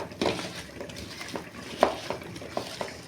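Okra is tossed with turmeric, coriander powder, cumin powder and chili powder for frying, giving a few short scrapes and light clinks in a quiet kitchen.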